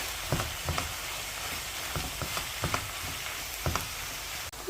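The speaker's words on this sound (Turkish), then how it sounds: "Biraz da pırasalarımızla şöyle çevire çevire" Chopped leeks sizzle and crackle steadily in a hot pan, with periodic scraping knocks as they are stirred and turned.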